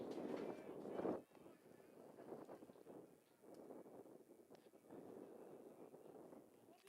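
Gusty wind buffeting the microphone on a very windy day at a college baseball game in Huntsville, with low rumbling surges that rise and fall under faint background noise.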